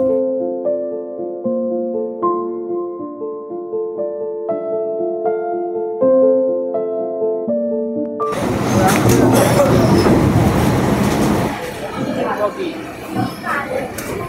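A suburban train runs from Sealdah to Canning, a loud rumbling, rattling roar that starts abruptly after a stretch of plucked instrumental music and carries through to the end.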